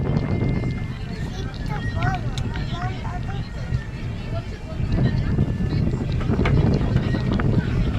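A motor launch boat cruising in the Sundarbans, its engine giving a steady low rumble with wind and water noise throughout, while people talk over it.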